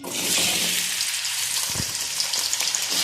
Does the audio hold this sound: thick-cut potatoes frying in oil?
yes